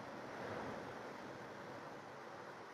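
Waves washing onto the beach right outside a seaside hotel in Thailand, a soft, even roar of surf with a slight swell early on, faint and without speech.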